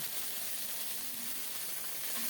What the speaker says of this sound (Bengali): এখন বাটা আদা দিলাম দুই চা চামচ আদাটা একটু নেড়ে চেড়ে কষিয়ে নেব